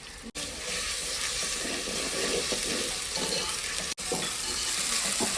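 Ginger and garlic frying with onions in a pan for a country chicken curry, a continuous dense sizzle with brief dropouts and faint stirring clatter, heard close and alone without voices.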